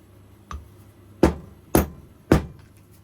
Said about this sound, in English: Use this hammer to try and slide it in.